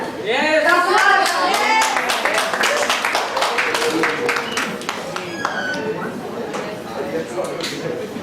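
Audience applause at an Independence Day celebration during a Western dance segment: a steady wash of clapping running the whole time, mixed with loud cheering and excited voices, including children's.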